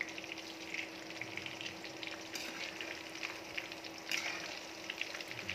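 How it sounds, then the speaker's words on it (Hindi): Turnips for Kashmiri shalgam gosht fry in hot oil with a steady, close sizzle and crackle that runs throughout, plus a couple of brief louder bursts of spattering. "ये देखिए शलगम जो है वो फ्राई होने लगी है"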